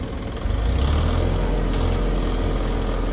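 A Volkswagen XL1's two-cylinder diesel engine idles and is revved, a loud, steady low chugging that swells slightly and holds, close by with no talk.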